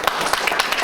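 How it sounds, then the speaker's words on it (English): Brief applause from a community event audience greeting a police commissioner, a short burst of rhythmic hand claps heard close and moderately loud for under a second. "I'd like to ask you to give a nice round of applause to our police commissioner"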